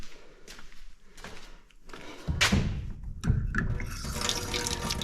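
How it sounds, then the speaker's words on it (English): Water from a tap starts running and gushes steadily, preceded by a few knocks and thuds nearby. "Running water."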